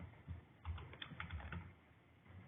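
Quick, irregular clicking of keys on a computer keyboard, close and fairly quiet, in short bursts with a brief pause.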